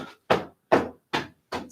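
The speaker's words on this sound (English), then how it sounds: "And slap down the back of the legs." Flat hands slap down the backs of the legs in a qigong flow class, four sharp, close smacks in an even rhythm about half a second apart, with no talking.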